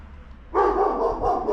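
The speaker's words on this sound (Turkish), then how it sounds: "Ve her evin bahçesinde kesinlikle köpek var." A dog barks from a house garden in a quiet residential street of detached homes, two or three fairly loud, close barks following a stretch of low background hum.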